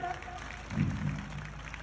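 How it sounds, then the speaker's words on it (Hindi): An audience at an annual function applauding steadily at a moderate distance, the clapping blending into a continuous wash with a voice faintly audible underneath. "एक बार बच्चे जोर से इनके लिए और तालियां बजाई जाए।"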